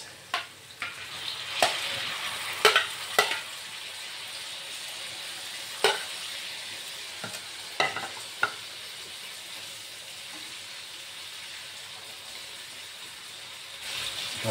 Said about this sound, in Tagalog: Lagay na natin ang kamatis.